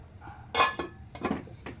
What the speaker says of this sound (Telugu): ఒక 5 నిమిషాలు మూత పెట్టుకుందాం